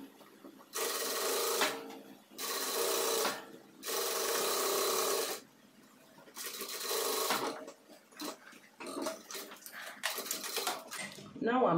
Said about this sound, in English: So I'm going to start sewing from this point all round back to this point where I started again downwards.